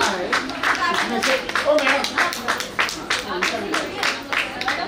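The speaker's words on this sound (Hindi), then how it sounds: "जोरदार तालियों से स्वागत कीजिए डॉक्टर रश्मि चौधरी" An audience at an award ceremony in Delhi applauds a speaker's welcome, a dense patter of many hands clapping at moderate loudness with voices mixed in throughout.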